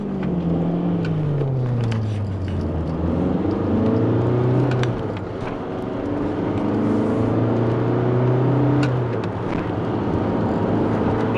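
A chip-tuned car on a short test run, its engine revving and climbing through rising, falling pitch sweeps as it accelerates, loud and close throughout with no talk.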